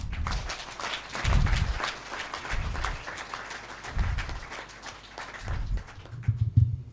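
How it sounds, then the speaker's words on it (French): Audience applause at the opening of a medical imaging congress in Côte d'Ivoire, a steady crackle of many hands that keeps going in the hall, with deep low thumps rising and falling underneath. "Je vous laisse continuer d'applaudir."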